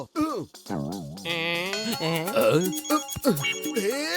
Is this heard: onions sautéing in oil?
no